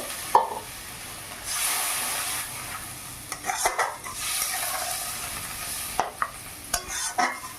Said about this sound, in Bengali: কিছুক্ষণ ধরে কষানোর পর এবারে দেব জল পরিমাণ মতো।